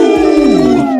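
A person voices a loud, close howl in imitation of a wild animal, one sustained wavering cry lasting about a second.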